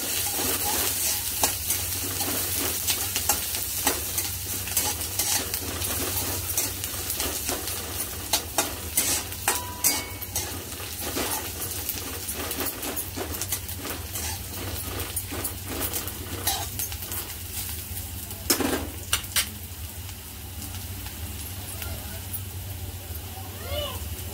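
Ten or twelve chillies fry in a hot pan for kaju chicken masala while being stirred, giving a steady sizzle broken by repeated scraping and clinking of the spoon against the pan, close and fairly loud throughout.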